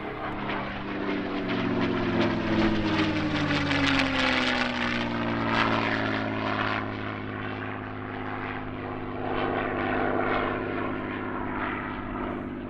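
A propeller aircraft drones steadily overhead at an airshow, its engine tone sliding downward as it passes, loud and continuous with no voices.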